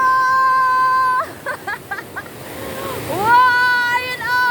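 Water rushes steadily at a waterfall in Lettac Norte, Santol, La Union, a constant broad roar under high tonal sounds and brief vocal bursts.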